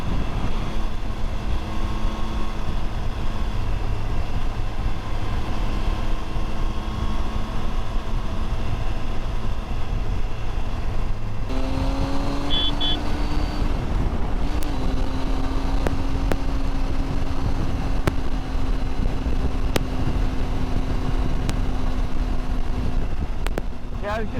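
A motorcycle in 4th gear on a mountain pass road holds a steady engine note, then the throttle rolls on near 4,000 RPM and the tone rises and settles, all under heavy wind rush.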